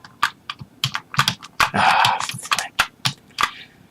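Computer keyboard keys are pressed in quick, irregular clicks and clacks during a video game, with one longer rattling burst in the middle, close and loud with no speech.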